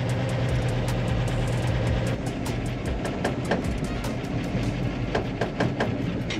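A truck engine idles steadily with low throttle while the PTO dumps a load from the bed, a continuous low rumble close by with small bursts and rattles throughout.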